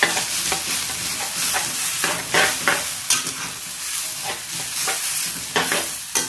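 Vegetarian Thai rice vermicelli noodles stir-fried in a pan, with a steady sizzle under repeated scraping strokes of a spatula, close and fairly loud throughout with no voices.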